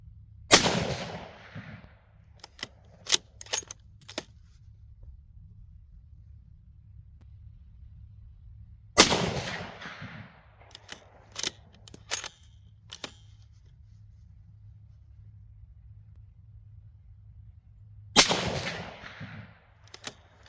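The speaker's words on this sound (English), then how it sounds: "I'm going to fire these last 4 rounds into my last target and see if they're going to fly high or low" An AAC .308 Winchester rifle firing full metal jacket rounds outdoors: three loud, evenly spaced shots, each with a rolling echo, and quieter mechanical clicks of the action between them.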